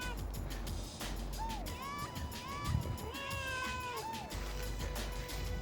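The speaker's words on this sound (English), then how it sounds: "And don't forget to enjoy this cat video" A fluffy indoor cat gives several distinct meows, some rising and some falling in pitch, close to the listener over a steady low background hum. The meows are spread evenly through the clip.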